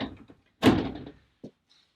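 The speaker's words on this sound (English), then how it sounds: "This door does slide open for extra storage" Sliding storage door in the bulkhead of a 2022 toy hauler RV, one quick rolling slide and thump near the mic, then a small click and quiet.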